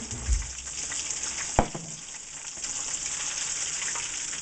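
Beer-battered shrimp and chicken sizzle and crackle in hot oil while deep frying, a steady hiss with one sharp pop partway through, fairly quiet and close.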